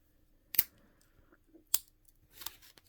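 The small scissors of a Victorinox Fieldmaster pocket knife snip three times, sharp crisp metallic clicks close up with short gaps between them in an otherwise quiet room.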